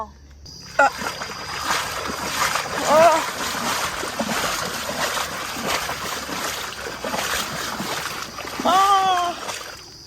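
Footsteps wading through ankle-deep floodwater near rice fields, rhythmic splashing and sloshing close by, with someone speaking over it.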